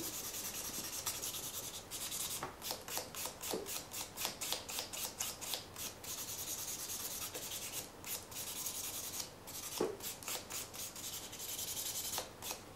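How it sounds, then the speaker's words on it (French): A soft foam file or buffing block scuffs the surface of a coat of nail polish in quick, repeated close-up rubbing strokes, a steady rasping rhythm with no talking. "avec une lime douce, une lime mousse ou un bloc, je griffe la surface de ma couleur, en veillant bien à aller partout"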